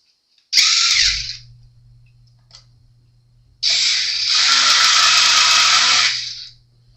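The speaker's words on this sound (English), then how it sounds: "So I'm just going to put 2 screws in temporarily." A power driver sets two screws into an electric guitar build in two separate loud bursts of whirring motor, a short one and then a longer sustained run, with a quiet pause between them.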